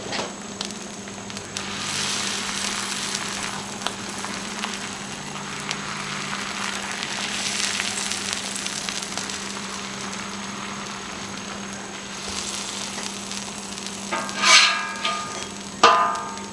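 Cheese crisping in a pan for birria tacos gives a steady, soft sizzle and hiss under a low hum, with a couple of sharper clicks near the end and no talking.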